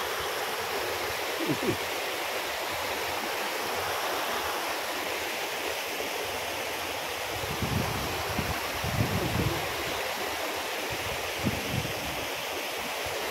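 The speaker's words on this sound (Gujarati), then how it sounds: "આ નદીનો ફ્લો" A river in a riverside village runs beside a farm, a steady, full rushing wash that goes on throughout, with a few low gusty thumps rising now and then.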